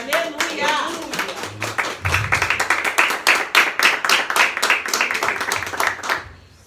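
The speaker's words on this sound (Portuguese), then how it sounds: "Você se assenta e aplaude o Senhor em nome de Jesus." A church congregation claps in a dense burst of rapid, overlapping handclaps that swells and then stops abruptly, with a voice briefly heard at the start.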